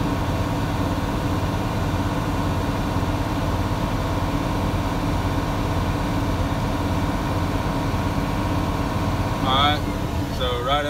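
Truck engine running at high idle while building air-brake system pressure, a steady low rumble and hum throughout, with a few brief higher squeaks or chirps near the end.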